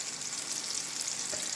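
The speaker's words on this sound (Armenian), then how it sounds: "Շուռ եմ տվել, այս կողմն էլ մի քիչ տապակվի" Large fish patties seasoned with garlic, salt, black and red pepper and dried dill sizzle in a frying pan after being flipped, a soft, steady crackle and hiss that keeps going with no talking.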